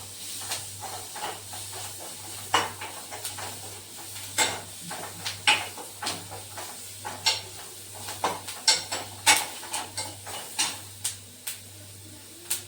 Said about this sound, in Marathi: शिमला मिरची फ्राय करून घ्यायचं